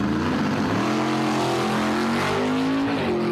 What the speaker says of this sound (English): You got the Castle Plumbing and Heating Cobalt in the burnout box left lane.